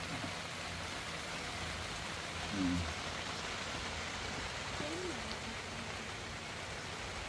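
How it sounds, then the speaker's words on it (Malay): Steady, dense hiss of heavy rain pouring down at a rainforest campsite, constant and enveloping, with a couple of faint brief voice murmurs underneath. "Ini betul-betul lebat hujan."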